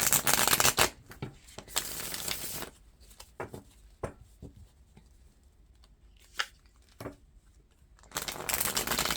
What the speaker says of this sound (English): I've shuffled it a bunch of times, but I'm going to give it a few more